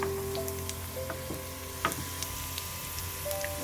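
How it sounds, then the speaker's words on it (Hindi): Cumin, mustard seeds, nigella and garlic crackle and sizzle in hot oil for a tempering, a steady frying hiss with scattered sharp pops, close and fairly quiet, with no voices. "हमारा तड़का क्रैकल हो रहा है।"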